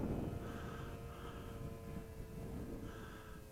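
Hanger 9 PA18 Super Cub RC model airplane with an 8-foot wingspan taking off and flying at a model airfield, a steady droning engine hum that rises and falls slightly as it passes, continuous and fairly close.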